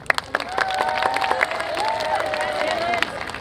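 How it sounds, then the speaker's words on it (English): An audience applauds and cheers a young pianist at a school music night, dense clapping mixed with whoops and shouting voices, loud and sustained throughout. "a round of applause for Dylan"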